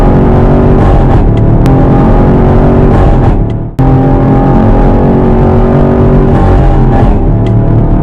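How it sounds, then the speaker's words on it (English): A 6th-generation Chevrolet Camaro's engine roars at high revs in a no-lift shift, loud and close, dropping out in a sharp momentary cut midway before surging straight back to full throttle. "Now the car is going to make like a weird noise"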